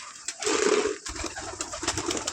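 Pigeons being released from their coop, one giving a soft, close coo, followed by light rustling and flutter sounds, with no talking.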